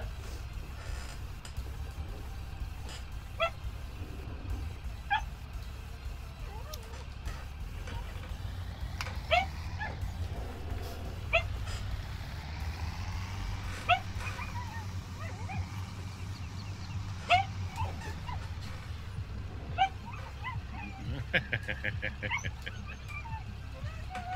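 A poodle dog in a Farming Simulator farm game gives scattered short barks and yips with whimpers in between, moderately loud over a low rumble of machinery, with people talking intermittently.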